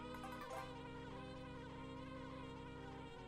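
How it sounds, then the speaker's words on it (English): Bees swarm out of a beehive in the Banjo-Kazooie video game, producing a constant, loud, droning insect buzz with a rich layered tone that holds steady throughout with no talking. "Now bees are there."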